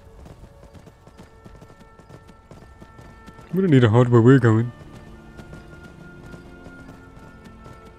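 Horse hooves clip-clop at a steady walking pace in Skyrim, quiet and continuous beneath the game's ambience, while a voice briefly speaks over them partway through.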